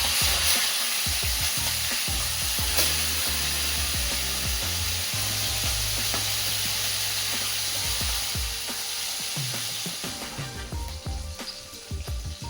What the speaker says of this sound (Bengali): একে একে মাছগুলো আমি তেলের ভিতরে দিয়ে দিচ্ছি